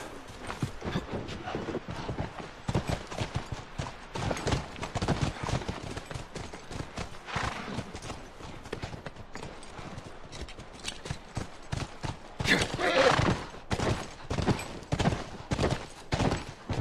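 Horse hooves clip-clop in a fast, busy rhythm amid a dense, noisy mix of other rumbling sounds in the video game The Last of Us, fairly loud throughout.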